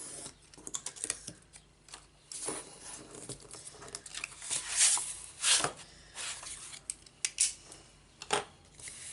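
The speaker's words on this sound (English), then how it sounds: "I'm just going to cut off the excess of this paper" A craft knife trims excess paper from a double waterfall album folio, giving repeated short scraping and snipping cuts in irregular bursts, close and fairly quiet, with no talking.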